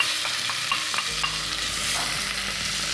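Chopped onion sizzles in olive oil in a preheated pot while being stirred, a steady close frying hiss with scraping stir strokes and no talking.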